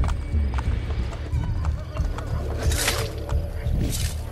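Horse hooves clip-clopping in Assassin's Creed Brotherhood, a steady gallop heard over a low ambient rumble after a whistle call, with game sounds around it.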